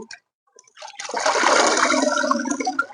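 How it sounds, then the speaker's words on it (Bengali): Water from soaked mustard cake pours through a net into a bucket, a sudden rushing, splashing gush that starts after a brief quiet and continues steadily close by. "বালতির মধ্যে ঢেলে দিলাম"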